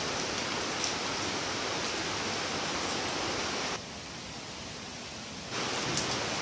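Wind blowing steadily through tall trees and leaves ahead of rain, a dense, even broadband rush that drops briefly quieter near the middle before surging back, with no voices.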